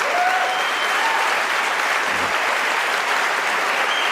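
A church congregation applauds during a Spanish-language sermon, a dense, steady wash of many hands clapping at once that holds loud and even from start to finish with no voices on top.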